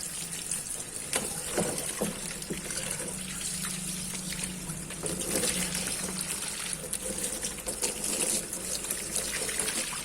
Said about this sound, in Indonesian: Bilas dengan air mengalir sebanyak mungkin